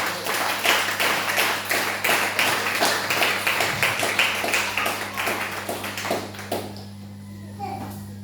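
A congregation at a church service in Abidjan claps in a steady, rapid rhythm with voices mixed in, continuing strongly before thinning out near the end.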